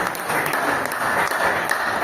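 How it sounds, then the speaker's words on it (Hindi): A meeting audience claps together for a review-session guest, a steady, dense wash of applause that fills the whole stretch without pause. "लोग ताली बजा रहे हैं"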